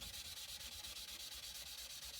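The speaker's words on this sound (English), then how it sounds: "After the sandpaper, I'm gonna take that sanding sponge," A sanding sponge rubs back and forth over the frets of an Epiphone Les Paul Custom guitar, a close, steady rhythmic scratching of fast even strokes with no talking.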